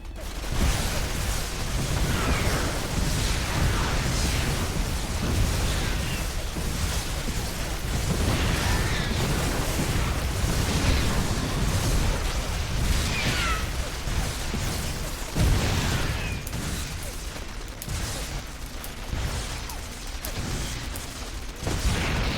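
Archons in StarCraft 2 fighting Terran Vikings: a dense, unbroken clatter of energy bursts, pops and weapon fire runs throughout at steady loudness, with little pause.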